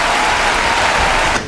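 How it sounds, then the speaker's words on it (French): A burst of loud, dense applause from many hands fills the moment, steady and close, then cuts off abruptly near the end; no speech over it. "ça mérite un tonnerre d'applaudissements pour Shein"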